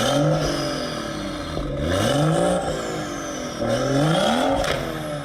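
A BMW M140i hatchback with a modified exhaust and downpipe revs loudly and close, its engine note climbing and falling in repeated sweeps, with a raspy crackle between pulls and no talking.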